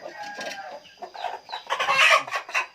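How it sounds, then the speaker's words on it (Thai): A broody hen sitting on eggs clucks repeatedly at close range, a run of soft throaty clucks rising into louder, higher calls. "ตัวนี้ยังกุ๊กๆอยู่นะ"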